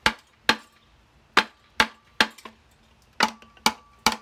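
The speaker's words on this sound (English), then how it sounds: "Just lightly tapping it so we can just break the seal for the gasket." Light, measured hammer taps on a Kohler Courage SV-540S vertical engine to break the gasket seal, about ten sharp, dry knocks spaced roughly half a second apart with brief ringing decay, no voices.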